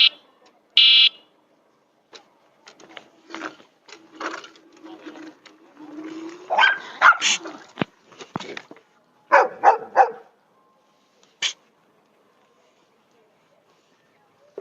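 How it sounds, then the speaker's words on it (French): Several dogs bark and yelp aggressively in scattered bursts on a road in Portugal, some sharp and high, nearby, with gaps of quiet between outbreaks. "Attaque de chien."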